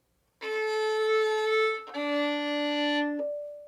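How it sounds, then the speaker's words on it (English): A violin is bowed sul tasto, over the fingerboard, in two long notes, the tone soft and airy, with a short gap where the pitch changes. "This one is called sul tasto, which we usually use for music that calls for something very wispy and very soft."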